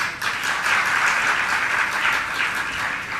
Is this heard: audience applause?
yes